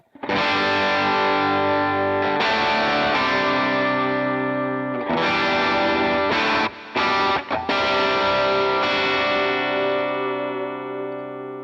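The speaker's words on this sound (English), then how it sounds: "here's another one of my overdriven settings, kind of a little quieter than that one" Overdriven Stratocaster electric guitar at a quieter drive setting, sustained distorted chords ringing out alone with a few brief stops and restarts, close and steady, fading at the end.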